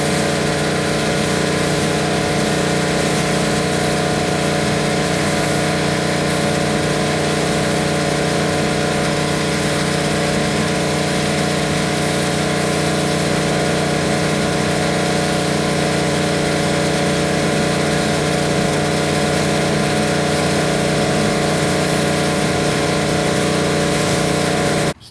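A Troy-Bilt 3400 PSI gas power washer, model TB3400PW, runs continuously at steady high volume, its engine drone and hum unbroken throughout.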